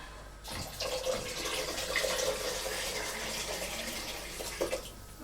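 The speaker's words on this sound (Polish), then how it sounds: "Po dźwięku garnka im wyższy dźwięk, tym więcej wody w garnku" Water runs steadily from a tap into a cooking pot, a continuous hissing splash at low volume with a few small clinks, the pot's tone rising as it fills.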